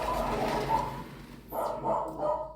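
Dogs bark indoors in a short loud burst, several overlapping woofs and yips close by, rising and falling over a couple of seconds.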